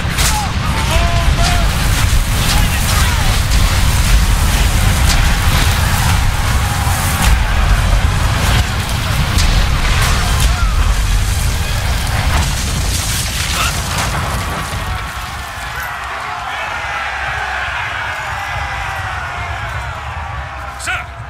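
Roman catapults fire during a loud battle scene in Ryse: Son of Rome, deep booms and heavy thuds rolling under a dense roar of combat, with voices shouting orders over the din.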